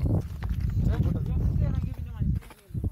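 A cow walks at a hilltop tourist viewpoint, its hooves giving soft, uneven clopping steps close by, mostly buried under people talking loudly throughout.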